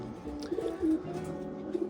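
A racing pigeon coos softly in a few low, throaty notes, close by against a faint steady background.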